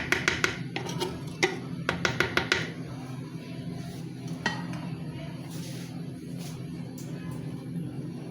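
Mutton frying with yogurt in a pot for aloo gosht, a low steady sizzle beneath a run of sharp metallic clinks and scrapes from stirring, which bunch together early and then thin out to a few taps.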